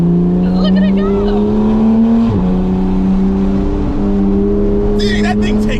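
A Porsche GT3 RS accelerates away ahead, its loud, steady engine drone climbing slightly in pitch and holding close, with faint voices briefly audible.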